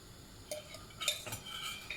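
A spoon scrapes and clinks against a pan while popcorn kernels are stirred with salt, several light metallic taps and scrapes at a quiet, close level.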